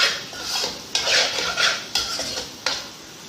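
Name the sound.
stirring masala egg mixture in a pan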